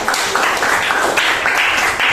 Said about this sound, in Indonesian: berikan tepuk tangan untuk kalian semua